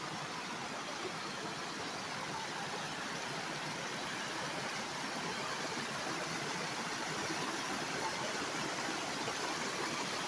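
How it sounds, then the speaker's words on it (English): Steady rushing of Seneca Creek flowing under a bridge at Judy Springs in the back country, continuous and even from start to finish, with no voices. "Seneca Creek, taken from the bridge at Judy Springs."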